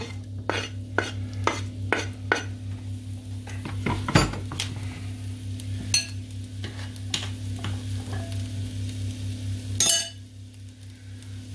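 Onions frying on a hot grill plate in a fast kitchen while burgers are made, a steady sizzle under repeated metallic clanks and scrapes of pans and utensils, close and busy, no talking.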